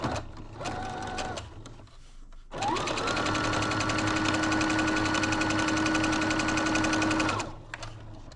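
A sewing machine stitches a seam in crazy quilt fabric for a jacket, running in a short burst and then a steady, continuous whir for several seconds before stopping, close and clear with no talk.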